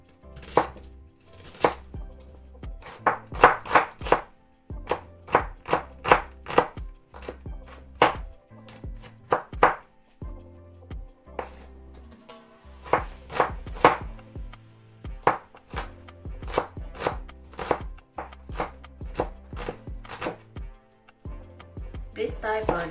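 Knife chopping red shallots on a cutting board while making meat loaf, rapid bursts of crisp, close taps in quick runs with short pauses between, over quiet room tone.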